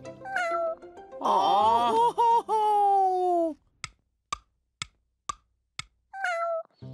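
A cat meows twice in long drawn-out cries, then a few soft ticking taps follow, ending with a short final meow.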